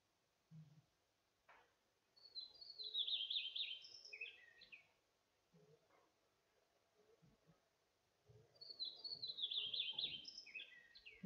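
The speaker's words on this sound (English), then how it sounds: "So shy heath wren is the second one." Two bursts of high, rapid shy heathwren song several seconds apart, fairly faint against a quiet outdoor background with a few soft rustles.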